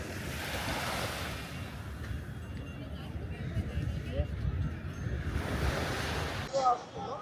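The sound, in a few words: sea waves at Marine Lines, Mumbai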